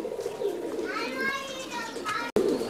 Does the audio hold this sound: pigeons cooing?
yes